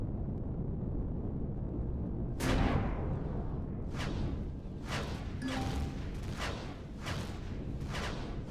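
Artillery salvos fire in Empyrion Galactic Survival as a series of sharp booming blasts, the first louder, then a roughly regular string of reports about a second apart over a low steady rumble.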